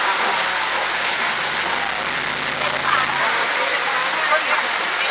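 Rain falling outdoors in a wildlife area, a steady, dense wash of noise that continues evenly throughout.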